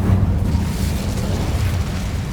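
An Incendio fire spell is cast in Hogwarts Legacy, giving a continuous low, roaring rush of flame like a short eruption. It is loud and close and fades slightly over two seconds, with no talking.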